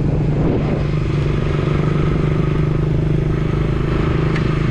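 Motorcycles and other traffic crossing a bridge in Cebu on the CCLEX route, producing a continuous, loud engine drone with clattering and a steady low hum throughout.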